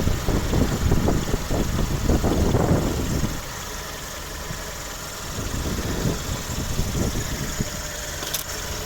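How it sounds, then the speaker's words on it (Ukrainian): A 2012 Skoda Octavia A5 1.6 MPI petrol engine idles steadily and evenly up close, a low continuous rumble that grows a little louder at the start and end. "Нормально, рівно, тихо працює двигун."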